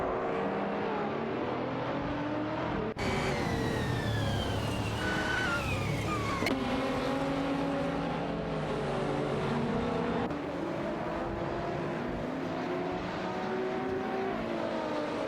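Race car engines whine and rev in a racing video game as cars overtake one another, sustained, steady buzzing with pitch sweeps as the engines shift, and no voices.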